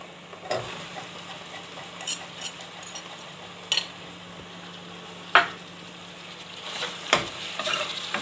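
Minced meat sizzles in a pan over onions cooked golden, a steady frying hiss broken by sharp scrapes and clinks of a stirring utensil.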